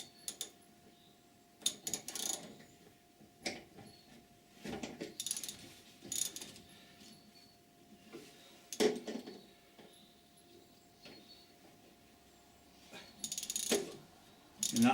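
A socket ratchet tightens a nut on the rear suspension of a Triumph Vitesse, giving close, intermittent bursts of rapid metallic clicking between quiet pauses, with faint clinks of tools and no talk.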